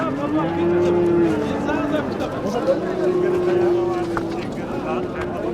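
A cow with her calf at a livestock market moos in long, low, drawn-out calls, two sustained lowing sounds close by, with people talking over the market background.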